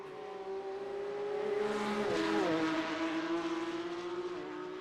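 A Porsche Cup race car in a sim racing game at Imola whines along with a steady engine note that rises and shifts as it passes, moderately loud and without speech.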